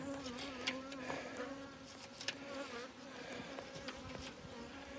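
A dense, steady drone of many honeybees buzzing together inside a hive, with individual wingbeats flickering through the hum; continuous and fairly quiet, no voices.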